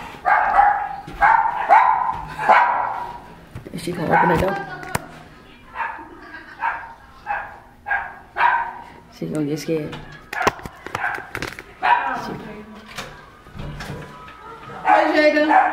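Dogs at a doggy daycare bark in short, loud bursts scattered through the clip, close by, mixed with people talking over them.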